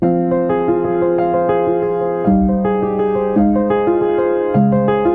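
An unprepared piano plays rolling arpeggiated chords with a bright, full, ringing tone, close and loud, no voices.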